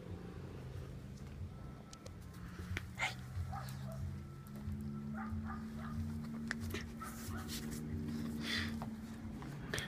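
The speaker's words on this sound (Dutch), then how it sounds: "Dit is onze hond." A dog at a row house barks and whimpers in short, scattered bursts of moderate loudness over a low background hum.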